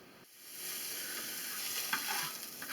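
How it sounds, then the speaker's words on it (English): Vegetables and garlic sauteing in a pan, a steady close sizzle with occasional stirring scrapes, continuing without a break after a quiet start. "sauteing this with some garlic, and the garlic is getting nice and brown"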